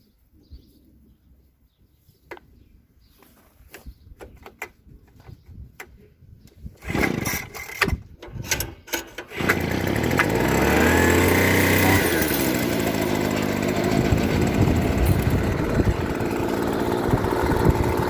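A Royal drywasher's small engine is started: a few clanks and pull attempts, then a sputtering catch that settles into a loud, steady, buzzing idle with strong airflow noise, close by and with no talking.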